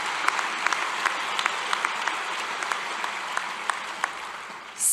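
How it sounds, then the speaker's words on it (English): Steady applause from an audience at a Naropa spring graduation ceremony and procession, continuous even clapping with a few sharper individual claps standing out, running to the end without speech. "One more round of applause for 50 years of Naropa,"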